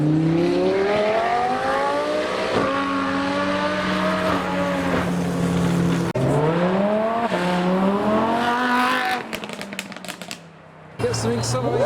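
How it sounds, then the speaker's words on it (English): A BMW M140i climbs through the revs in repeated rising pulls, each broken by a gear change, loud and close, then cuts off abruptly near the end. "Get some accelerations and some revolutions."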